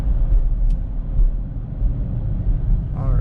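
A Chevrolet Camaro SS drives in tour mode with a deep, continuous low engine rumble, heard from inside at a steady, moderate level, with a faint brief voice near the end.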